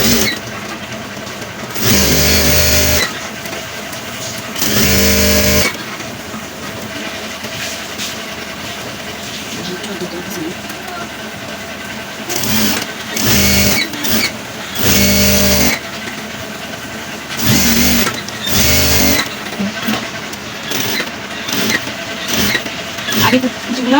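A sewing machine stitches pleats into a burqa in repeated loud, whirring bursts of a few seconds each, separated by quieter gaps in which a person talks.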